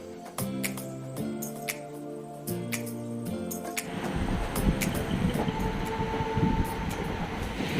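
A train rolls toward a tunnel on the line near Dudhsagar. A steady rumbling run builds louder in the second half, with repeated low tones early on.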